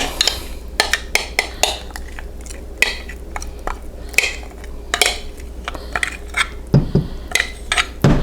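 Peanut butter being spooned into a pan of melted butter for corn-free peanut butter fudge, a series of close metallic scrapes and clinks of a spoon against the pan in an irregular rhythm.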